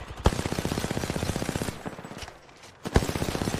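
Rapid automatic gunfire from the Apex Legends battle royale, a fast steady burst of shots with loud single cracks, a brief lull, then another burst, with no talking.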